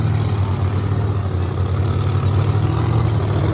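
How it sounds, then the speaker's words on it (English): A Pro Mod drag car engine with a ProCharger supercharger, at a drag racing event, drones steadily and loudly with a deep, even low-pitched idle and no pauses. "Firing that Pro Charger."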